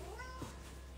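A cat gives a short, quiet meow over a low steady hum, a single brief call near the middle.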